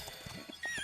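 A horse in the game ARK Survival Ascended gives brief snorting, whinny-like calls and soft hoof sounds, quiet and close, over a faint steady background tone.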